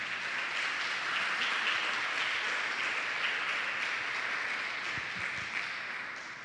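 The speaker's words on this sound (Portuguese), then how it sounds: "Salva de palmas para a Radassa." A church congregation claps continuously for Radassa's birthday during a service, a broad, even wash of applause that holds steady and eases slightly toward the end.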